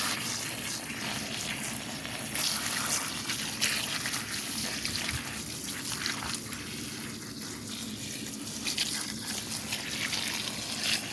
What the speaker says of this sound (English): we're going to make sure the beets are clean and ready to go in the pot when we're done with the hose